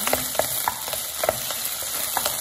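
Ground meat for meatballs sizzles steadily in a hot pan as it is mixed, with a spoon scraping and tapping against the pan in irregular knocks over the continuous frying hiss.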